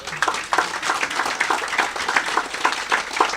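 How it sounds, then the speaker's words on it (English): Audience applause at the opening ceremony of a water pipeline in Micoud, a steady patter of many hands clapping with distinct sharp claps, moderately loud and continuous throughout, no talk over it. "Please give this government a big applaud."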